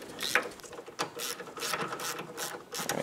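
A ratchet wrench clicks in quick repeated strokes while carrier bolts are tightened on the front brakes of a Polaris Ranger, giving a rhythmic, close-up mechanical ratcheting with short pauses between pulls.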